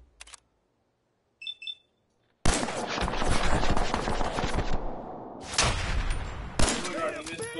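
Gunfire in Fallout 4: a few faint clicks in near silence, then a burst of loud, rapid shots that keeps crackling for several seconds, with another sharp shot near the end.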